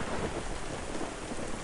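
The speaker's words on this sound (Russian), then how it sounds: "смотрите, ливень. Ливня раньше не было" A heavy rain shower falls in the video game Into the Dead 2 as a loud, dense, continuous downpour. It fills the whole moment with no pauses.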